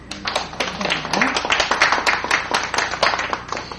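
Audience clapping at a religious human-rights newspaper forum, dense and steady throughout at moderate loudness, with a faint voice underneath.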